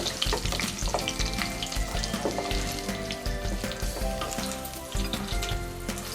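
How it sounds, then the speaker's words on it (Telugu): Dry red chillies and mustard seeds fry in oil over a low flame, making a close, steady sizzle with scattered crackles and pops and no talking. "2 ఎండుమిర్చి, ఇవన్నీ వేసుకుని సిమ్లో వేయించుకుందాం."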